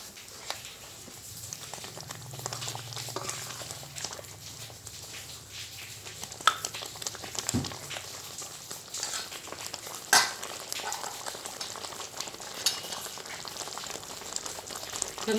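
Spices and masala powders sizzling in oil for tomato rice, a soft, steady crackle and patter with a few sharper pops and stirring scrapes, faint and continuous throughout.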